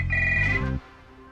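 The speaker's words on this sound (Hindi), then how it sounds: "फोन बज रहा है।" A phone ringtone plays loud and close in a short electronic melody, then cuts off abruptly, leaving a quiet room.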